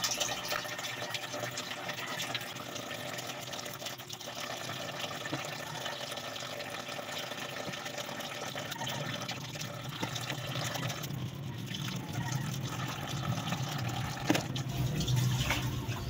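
Water runs steadily from a tap to soak freshly picked chili leaves in a kitchen, a continuous close splashing and filling sound lasting throughout with slight shifts in flow.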